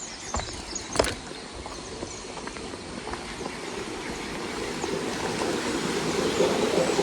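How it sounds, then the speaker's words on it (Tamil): Continuous rush of water pouring over a reservoir weir, a steady churning roar that swells slightly louder toward the end, with a few faint knocks early on. "இங்கே கீழால எல்லாம் தண்ணி ஓடுது."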